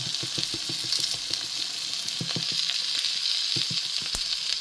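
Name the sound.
okra frying in oil with rice flour, being stirred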